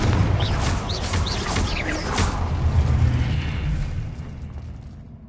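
Confringo blasting spell in Hogwarts Legacy: a loud magical explosion with a deep booming burst, crackling and whooshing debris that gradually fades away over several seconds.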